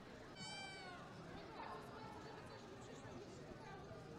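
A cat at a cat show in Białystok gives a short, rising meow near the start, faint under a steady murmur of crowd chatter and voices in a busy hall.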